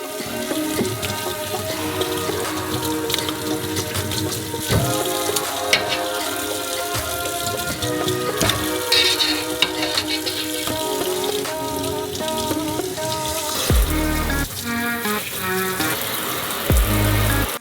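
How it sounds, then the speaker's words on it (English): Tap water runs steadily into a sink as beef bones and meat for pho are rinsed, with clattering and knocking of bones and a pot amid the splashing. "And also wash the bones and meat under running water."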